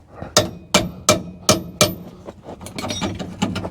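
Five sharp metallic hammer blows in an even rhythm knocking out an old shock absorber on a 400,000-mile truck, followed by rapid clanking and rattling of metal parts, close by.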